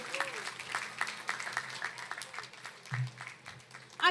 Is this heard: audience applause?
yes